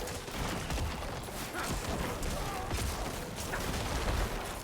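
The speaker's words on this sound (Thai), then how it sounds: "มันระเบิดศพรัวๆเนี่ยเห็นไหม" Rapid, crackling bursts of corpse explosions from a necromancer in Diablo 4 pile up one after another, a dense, noisy barrage with no pauses between the blasts.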